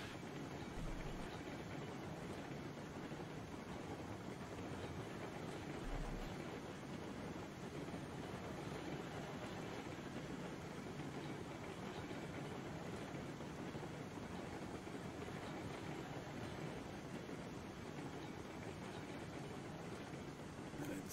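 Steady rolling rumble of a train running on rails in Railroads Online, a continuous low drone with faint clatter holding even throughout, no voices over it.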